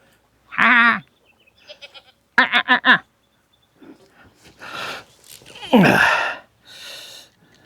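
Several goats bleat in short separate calls, one near and loud with a wavering tone, others spaced out through the stretch with brief gaps between them.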